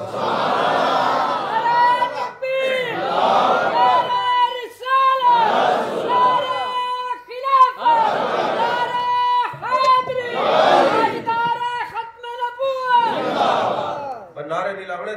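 Large crowd at a Mehfil e Jashan e Eid Milad un Nabi gathering loudly chanting religious slogans in about seven repeated, rhythmic call-like bursts, close and forceful.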